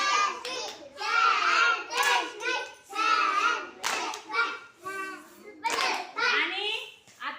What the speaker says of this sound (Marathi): आता आरुषीसाठी फॅन्टॅस्टिक टाळी वाजवायची सगळ्यांनी